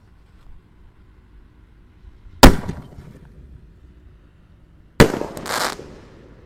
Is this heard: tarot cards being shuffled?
no